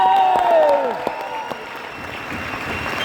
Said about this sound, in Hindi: एक जोरदार ताली होनी चाहिए मिस्टर शर्मा जी के लिए